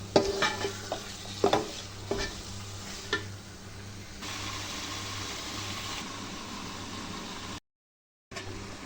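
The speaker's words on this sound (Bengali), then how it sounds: "ভালোভাবে কষিয়ে নিব পানি দিব না" Beef being stir-fried in a large pot with no water added, a steady close sizzle broken by sharp scraping stirs in the first few seconds, then a continuous even frying hiss.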